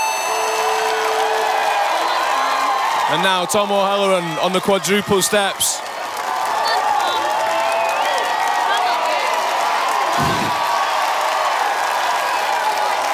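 A crowd at an Australian Ninja Warrior 2018 semi-final cheers Tom O'Halloran on as he takes the quadruple steps, a steady roar of voices and applause beneath a commentator talking throughout.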